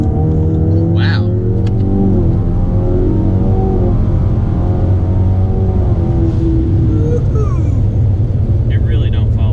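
A tuned 2018 Ford Mustang EcoBoost with a 10-speed automatic accelerates hard in third gear, its engine drone climbing steadily in a loud, close, continuous pull heard from inside the cabin while someone talks over it.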